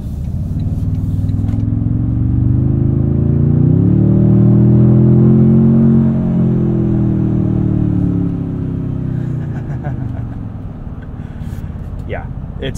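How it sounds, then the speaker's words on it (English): A 2024 Toyota Tundra TRD Pro i-FORCE MAX in sport mode accelerates from the driver's seat, its engine note rising in pitch through a loud, sustained pull before settling back, with piped-in engine sound and faint cabin noise. "Sport mode, you get a little bit of extra piped in engine sound."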